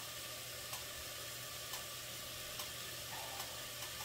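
Meat fries quietly in a pan on low heat, a faint steady sizzle with soft periodic scrapes and knocks as it is stirred around.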